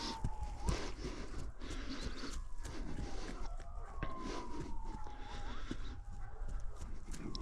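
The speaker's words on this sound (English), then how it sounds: "there's sirens going off" Emergency vehicle sirens wailing in the distance, faint rising and falling tones under a broad outdoor background hum, heard steadily throughout without speech.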